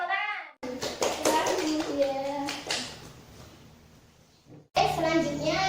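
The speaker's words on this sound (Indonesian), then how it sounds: "Tepuk tangan untuk kelompok yang maju" Classmates clap for a group of students coming forward during a microteaching lesson on quadratic function graphs, a short burst of near, fairly loud clapping mixed with children's voices, framed by a teacher talking before and after.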